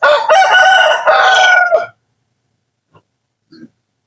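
A rooster in a backyard flock of ducks and chickens lets out a loud, close crow lasting about two seconds, followed by a couple of faint, brief clucks.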